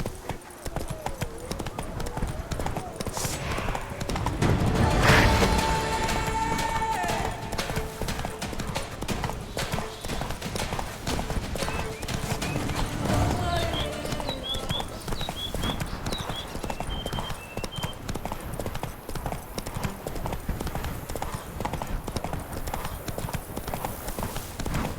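Horse hooves clip-clop steadily in The Witcher 3: Blood and Wine, a continuous trotting rhythm lasting throughout, with a brief neigh near the start over game ambience and some distant voices.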